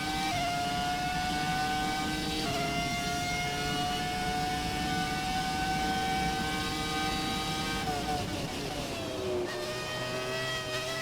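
Ferrari F2004 Formula One car engine in the racing game F1 2017, screaming at high revs throughout with brief dips at gear shifts, loud and continuous with no talk.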